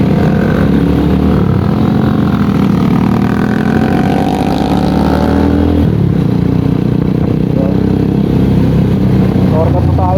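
A Loncin GP 250 Sigma motorcycle with a cheap aftermarket exhaust rides through back streets, its engine droning loud and close with shifting revs and a drop in pitch partway through.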